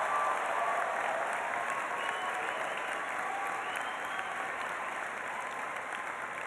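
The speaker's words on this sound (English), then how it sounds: "let's start by applauding our graduates" A commencement audience applauds the graduates at a law school ceremony, dense sustained clapping filling the hall evenly from start to finish with faint crowd murmur underneath.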